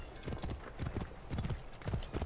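A horse in the video game Assassin's Creed Origins trots along with rhythmic hoof clip-clops, evenly spaced groups of close thuds repeating across the clip at moderate loudness.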